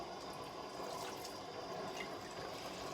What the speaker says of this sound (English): And you want to rinse in there real well